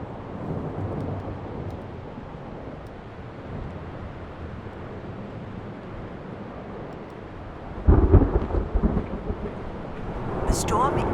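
Stormy thunder rumble in a sci-fi video game, a steady roar of wind and rain broken by a loud, close crack and rolling boom near the end, with no talking.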